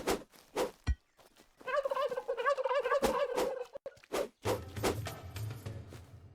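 Turkeys gobble in the survival builder game Tribe Primitive Builder, several loud rattling gobbles in quick succession followed by clucks and footsteps, close and clear with no talking.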